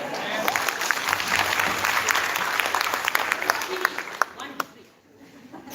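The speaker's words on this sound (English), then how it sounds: "Now, would you all clap then?" An audience at a national-level social hackathon finale claps together in a dense, steady burst that tapers off near the end, with voices over it.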